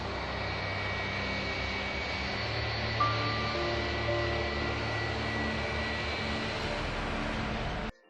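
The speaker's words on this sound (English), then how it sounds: "It is still hours before the dawn when the plane lifts off." A Flash Airlines Boeing 737-300 jet taking off, a steady, loud engine roar with a broad rushing hiss and whining tones that holds for several seconds before cutting off abruptly.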